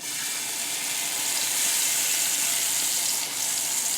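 Garlic cloves sizzle in hot oil in a large pan, producing a steady, close, hissing fry that holds evenly throughout.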